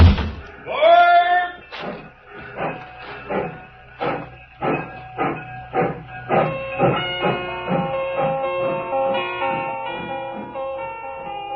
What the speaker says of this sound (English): I stood there on the embankment as the train pulled away